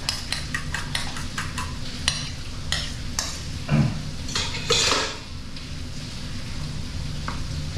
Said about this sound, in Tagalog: Haluin natin mga kaloko para hindi siya mamuo